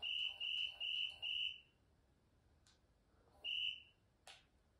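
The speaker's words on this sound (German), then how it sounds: "Weiß nicht, warum er pfeift." Shrill electronic whistling from the chess bot in the Fritz video game on Xbox, a run of four quick beeps followed by a single later one, clear and alone over quiet background.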